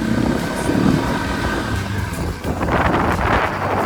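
A Voge LX300GY motorcycle accelerating in second gear, its engine a loud, steady drone mixed with heavy wind rush across the microphone, swelling slightly toward the end.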